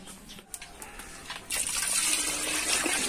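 Water is poured into a cooking pot of papaitan, a steady close gush that starts after a few faint clinks and runs on to the end.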